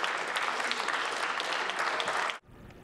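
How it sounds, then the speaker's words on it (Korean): Audience applause at a Korean political event, a dense burst of clapping from a crowd that fills the space and then cuts off abruptly. "큰 박수로 환영해 주시기를 부탁드리겠습니다."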